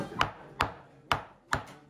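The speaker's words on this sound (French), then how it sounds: "Allez, coupe petit morceau, hein. On coupe de main, hein." Chicken is chopped by hand into small pieces, four sharp, evenly spaced knife strikes landing on a cutting board, close and clear with no talking.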